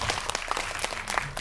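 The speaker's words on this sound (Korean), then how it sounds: "저희 조합장님에게 큰 박수 한번 부탁드리겠습니다" Audience at a Korean director's master class claps briefly for a union head, a moderate room of hands producing sharp, uneven individual claps rather than a dense roar, without any voices.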